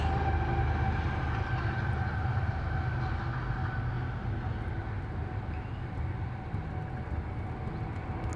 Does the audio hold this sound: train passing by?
yes